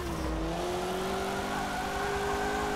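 Supercharger whine from a drifting car in the racing game Forza 7, a steady rising high-pitched tone riding over a continuous engine drone, fairly quiet and with no talk.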